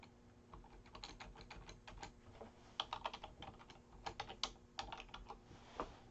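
Rapid typing on a computer keyboard, steady clusters of close, crisp key clicks with short pauses between bursts, with no talking.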